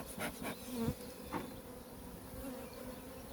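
Honey bees swarm around a beehive during an April colony inspection, a soft steady buzzing hum with a few louder passes as single bees fly close, alone without any talk.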